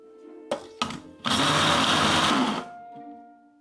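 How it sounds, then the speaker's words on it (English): Lemongrass and garlic being finely blended in a blender: a couple of sharp clicks, then a loud whirring burst lasting just over a second that stops abruptly, leaving a faint hum. "Finely blend the lemongrass and the garlic"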